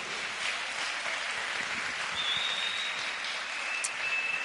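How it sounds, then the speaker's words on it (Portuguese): A congregation applauds during a Spanish- and Portuguese-language church service, giving a soft, continuous hiss of many hands clapping at moderate distance, with a faint thin whistle-like tone passing over it. "Dale un aplauso a Jesucristo."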